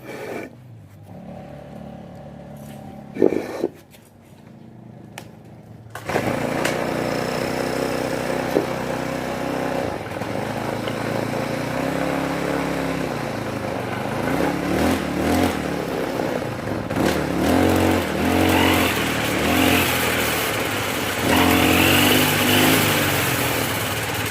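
A lawn mower engine sputters, then starts and runs continuously at close range, its pitch rising and falling as it is revved up and eased off; the mower has a fault where the blade does not spin when revved.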